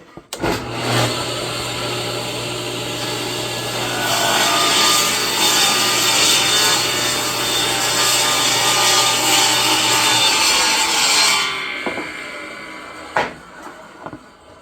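A saw blade grinds steadily through the end of a wooden window sill, cutting a bevel in one long, loud, even pass of about ten seconds, then winds down, followed by a couple of sharp clacks, with no talking.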